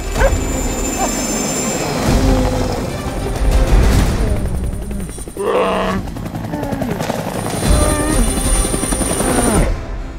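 A helicopter at a remote taiga airfield gives a loud, steady rotor roar that runs through the whole stretch, with a brief shift in the middle and no speech on top.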